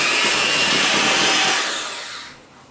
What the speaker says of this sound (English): Get your handheld mixer